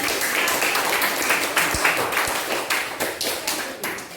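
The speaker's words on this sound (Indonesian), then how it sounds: "terima kasih, tepuk tangan untuk" A class of students claps hands together in a classroom lesson on fantasy stories, a brisk run of close, overlapping claps lasting a few seconds, with a couple of sharper thumps partway through.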